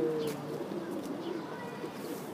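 Tippler pigeons coo softly on a Bronx rooftop coop, a low, murmuring call that carries on through faint outdoor background noise.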